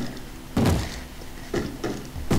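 Zombies bang on a door in the Minecraft video game, giving three heavy, muffled thuds spaced about a second apart, loud and close with no talk.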